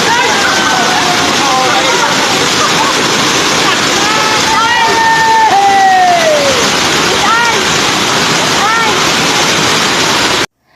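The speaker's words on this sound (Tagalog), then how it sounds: "Nagustuhan nito ang napakagandang Cambuhagay Falls." Cambuhagay Falls in Siquijor rushes with a loud, constant roar of falling water. Birdsong chirps and whistles ring out above it.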